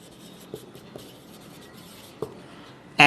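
A marker or chalk writing on a board, heard as faint scratchy strokes with a few light taps, close and quiet, ending in a sudden louder knock.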